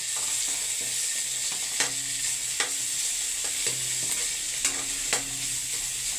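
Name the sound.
sautéing sponge gourd (patola) in a pan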